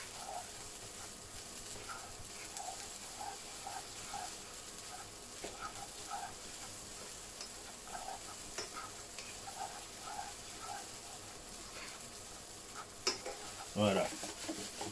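Spätzli frying in butter and oil, a soft steady sizzle with occasional clinks and stirring scrapes of a utensil against the pan, fairly quiet, with a louder rattle near the end.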